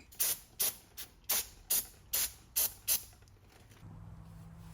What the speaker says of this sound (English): we're going to clean up this grinder with some brake clean fluid